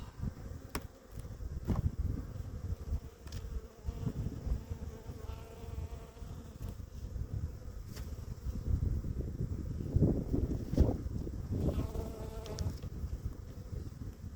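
Honey bees swarm around an opened, heavy, well-stocked hive during a February inspection, a dense buzzing drone with individual bees zipping close past, alongside light handling knocks and rustles.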